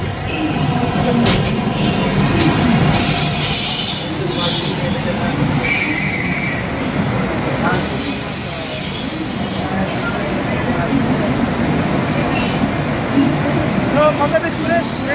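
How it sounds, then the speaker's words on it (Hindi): Magadh Express train pulling out of New Delhi, loud close wheel squeal and rumbling rail noise from inside a third AC coach, with voices over it. "मगध एक्सप्रेस में ढाई समय पर यानी कि 9:05 पर चल दिया"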